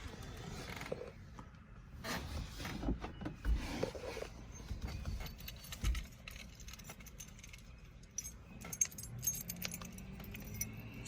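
Keys jangle on a TransAm keychain inside a car, a quiet close rattle of metal with several bursts of clinking and light handling noise.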